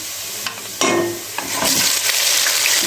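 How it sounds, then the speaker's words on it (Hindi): Chicken fries in a pot for Kabuli pulao, giving a dense, continuous sizzle with a few sharp clatters and stirring scrapes, the hiss swelling louder in the second half. "तो अभी साथ ही चिकन को भी फ्राई कर लेते हैं ताकि इसमें थोड़ा सा कलर आ जाए"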